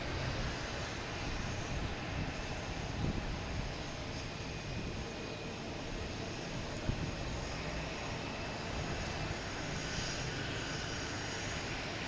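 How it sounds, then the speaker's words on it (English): A Delta airliner taking off at Logan Airport, a continuous broad engine roar that holds steady and loud throughout, with no voices. "Delta taking off, heading to San Antonio."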